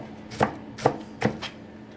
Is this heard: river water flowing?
no